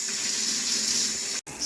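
Faucet spitting and sputtering as air and water push through the line after an electric water heater refill, a steady hiss of running water with a brief cutout near the end.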